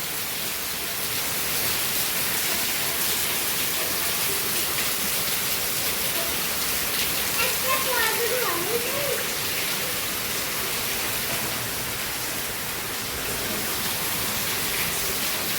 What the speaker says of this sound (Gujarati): બહાર તો જબરજસ્ત વરસાદ ચાલુ